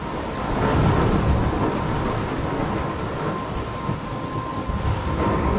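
Rumbling thunderstorm in the video game Life is Strange, a steady, loud wash of rain and low thunder rolling continuously with no speech.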